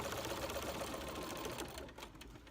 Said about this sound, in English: we're going to stitch that down